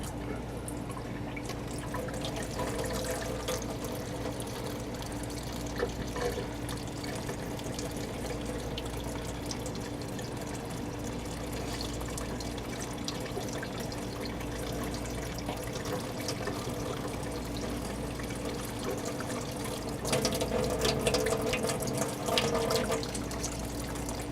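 Steady running water from a tap, a continuous watery rush with a low hum underneath, growing a little louder toward the end.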